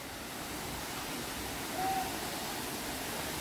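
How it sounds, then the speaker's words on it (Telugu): Gandahati waterfall in Gajapati, Odisha, pours in a dense, unbroken rush of water that stays loud and constant throughout. "ఇదిగోండి, అసలు సిసలైన గండహాతి water fall, safest water fall"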